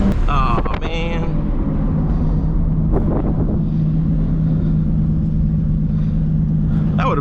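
A straight-piped Toyota Supra cruising on the road gives a steady, loud low engine and exhaust drone with wind noise, while people talk over it inside the car.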